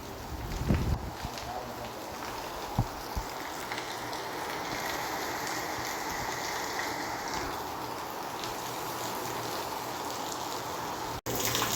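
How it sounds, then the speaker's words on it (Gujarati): A heavy monsoon downpour on a farm roars as a steady, dense wash of rain, with a few heavier thuds and splashes near the start, continuing without a break. "મુસળધાર જો દેવા માંડ્યો વરસાદ"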